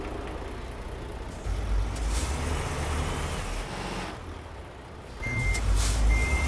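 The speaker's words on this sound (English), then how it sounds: "as all old Renault cars from the mid-70s, they have the beepers" Reversing beeper on a mid-1970s Renault 12 vehicle in the game Euro Truck Simulator 2 gives a couple of short electronic beeps late in the clip over a steady, loud idling engine rumble.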